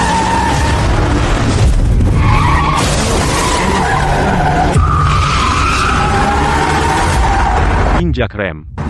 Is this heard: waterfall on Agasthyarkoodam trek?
no